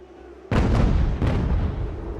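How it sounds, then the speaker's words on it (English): Mortar artillery fire in the video game Ultimate General: American Revolution: a sudden loud blast followed by two more booming shots in quick succession, each trailing into a dense rumbling roar. "I think that our mortar is going to do a lot of damage"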